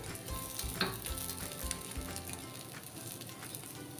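Sweet rice appe made with jaggery and coconut frying in ghee in an appe pan, a soft steady sizzle with a few light clicks as the pieces are turned over.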